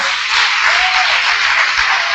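A church congregation applauding together: a steady, loud wash of clapping from many hands throughout, with no talk.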